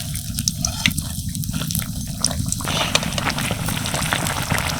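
Steady crackling sizzle of battered bread chops frying in hot oil, continuous and close, with no voices.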